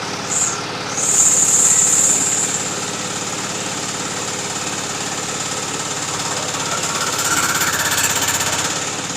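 The engine of a GBU 30L drilling machine runs loudly and steadily while digging, rattling and hammering throughout, with a higher whine rising briefly near the start.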